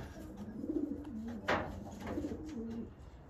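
Healthy breeding pigeons in a loft give repeated low, throaty coos in a steady rhythm, close by, with a brief rustle or flutter partway through.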